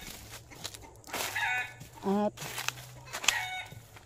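Chickens cluck and cackle around a rural yard, a few loud calls and one drawn-out squawk rising over a low steady hum, with a person speaking briefly nearby.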